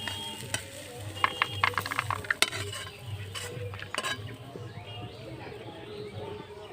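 Fried snack food with sauce being stirred in a pan, with a soft sizzle underneath and a cluster of sharp metallic clinks and scrapes from the spatula early on, easing to a quieter sizzle toward the end.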